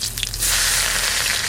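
Garlic and mustard seeds frying in hot mustard oil, a close, loud sizzle that bursts in after a brief crackle and holds steady.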